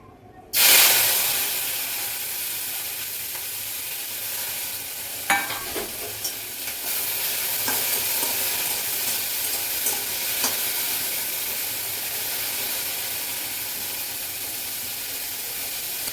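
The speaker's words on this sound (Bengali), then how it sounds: "এখানে ভেন্ডি ভাজা করবো" Cut okra fries in hot oil in a kadai. A loud sizzle bursts in and then holds as a steady, close hiss, with a few faint clinks of stirring and no talk.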